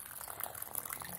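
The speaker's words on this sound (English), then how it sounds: "Pour in the hot water," Hot water poured a little at a time into flour and oil for a fried corn tortilla dough, making a soft, steady trickle and splash close by with a faint bubbling hiss, alone without speech.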